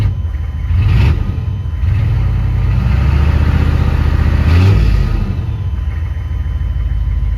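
A GMC K2500 pickup's warm 6.5-litre diesel engine idles with a steady low rumble, swelling briefly a couple of times as it revs, then settling back to a constant drone.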